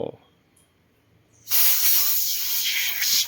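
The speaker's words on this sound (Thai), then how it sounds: "เราฉีดตรงด่างๆ ก่อนนะ" A sustained spray hiss of foam cleaner bursts onto stained fabric car seat upholstery, loud and steady for nearly two seconds after a quiet lead-in, with a faint voice at the start.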